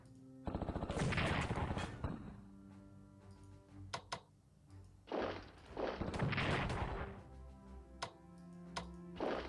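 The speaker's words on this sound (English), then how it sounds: "Wow, that artillery got real effective there." Artillery fire in the WWII strategy game Strategic Command WWII comes as two loud booming blasts, each followed by crackling bursts and a few sharp ticking clicks, alone with no talk.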